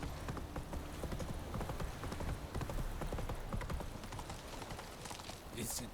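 Hooves of Geralt's horse Roach clip-clop in a steady, close trotting rhythm in The Witcher 3, with other game sounds and faint voices mixed in underneath.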